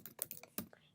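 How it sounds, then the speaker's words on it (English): Several quick, light keystrokes sound on a computer keyboard as a login ID is entered. They are close and soft, all within about a second. "So I'll put in my IBM ID"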